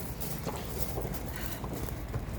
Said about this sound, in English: Oh, this donkey's so cute.